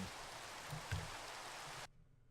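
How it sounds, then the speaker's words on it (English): Steady hiss of rain falling in the video game Symmetria, a dense even wash that cuts off abruptly near the end, with a couple of soft low thumps inside it. "Jeez, that rain."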